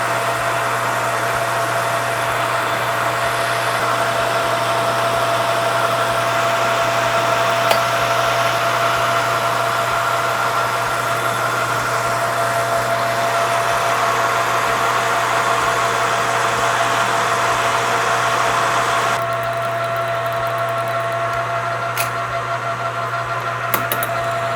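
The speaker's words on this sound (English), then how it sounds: "And now I'll do some machining, and I'm using the dial indicator as my stop." A lathe turns steadily while machining bicycle stem caps, a continuous close mechanical hum with a constant tone, loud and unbroken throughout, shifting slightly near the end.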